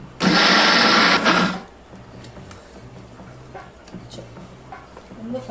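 A mixer grinder grinds adai batter, kept coarse rather than fine, in a loud, steady whir that runs for just over a second and then cuts off, leaving quiet kitchen background.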